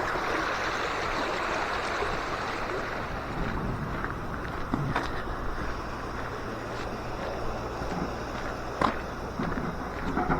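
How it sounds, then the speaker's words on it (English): Small stream of water running down from the hills past a coastal village lane, a steady broadband rush that stays constant throughout, with wind noise buffeting the microphone. "there's a bit of a stream with the water coming down from the hills"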